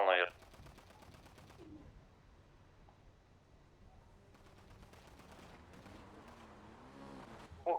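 Video game gunfire comes in rapid bursts of shots at the start and again midway, fairly faint and distant, with quieter stretches between and some talking over the top.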